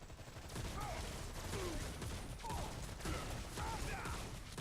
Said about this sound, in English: So there's my ridiculously powerful shotgun.